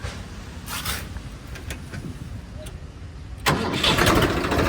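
A Swaraj 855 tractor engine, 2021 model with about 1100 hours of use, cranks and then catches, settling into a steady, loud rumble close by.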